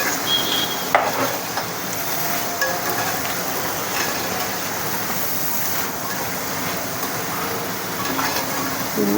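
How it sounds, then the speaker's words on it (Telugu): Boondi, small drops of gram flour batter for sweet-shop style boondi mithai, frying in hot oil, making a constant close bubbling sizzle with a brief clink near the start and no clear talking. "కొంచెం చక్కగా వేగుతుంది కదా."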